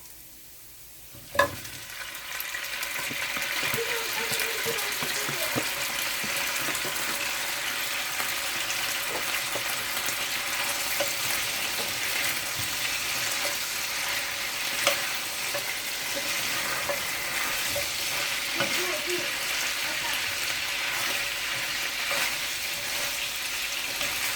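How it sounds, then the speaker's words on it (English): Boiled pork sizzles steadily in a hot pan, a constant close frying hiss after a brief clunk at the start, with occasional soft clatters. "leave it to fry for 2 minutes"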